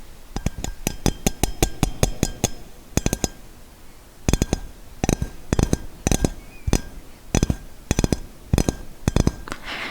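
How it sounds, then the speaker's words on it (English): Fingertips tap a small can or jar in quick bursts of sharp, bright clicks, some rapid runs and some single knocks, close and crisp against a quiet background. "This is the sound of the little can/jar it comes in."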